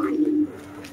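Racing pigeons give a single soft, low coo at close range, fading within a second, with no voices over it.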